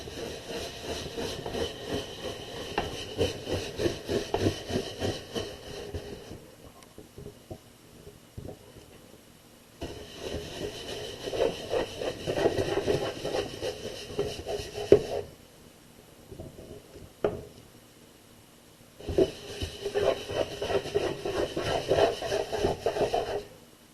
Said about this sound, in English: I'm going to get out my brush, my scrubber. I'm going to do a couple good swipes on my soap